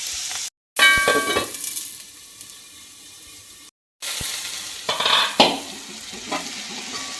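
Chopped onions fry under a lid in a pan while egg thoran with tomato is being cooked, giving a steady sizzle broken by the clatter of the lid and stirring.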